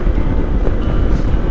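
Strong, steady wind gusting across an open seaside campsite in Tanay, Rizal on a hot day, a continuous loud rumbling roar with no talk over it.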